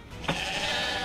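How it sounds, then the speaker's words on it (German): A sheep bleats in the Crossbow Warrior: The Legend of William video game, one sustained, loud, wavering bleat rising suddenly and then holding steady to the end. "warum sind so laut die fucking Schafe?"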